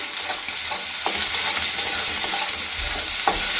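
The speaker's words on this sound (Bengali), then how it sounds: "ভালো করে ভেজে নেব" Chopped garlic with black cumin seeds sizzling in a hot pan, a dense steady hiss with a few stirring knocks and light spatters, close and uninterrupted by talk.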